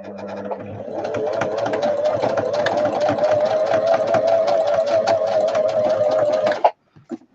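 A sewing machine stitches fabric in one continuous loud run of rapid, even needle clatter for several seconds, then stops abruptly and is followed by a couple of quiet handling knocks.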